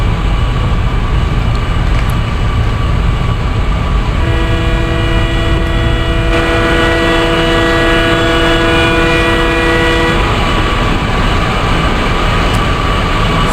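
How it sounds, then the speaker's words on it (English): The 16335 Nagercoil Express runs at speed with a loud, continuous rumble of wheels and engine. A long, sustained horn blast rises above the roar through the middle stretch. "So let's speed up the train."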